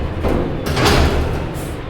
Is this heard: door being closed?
yes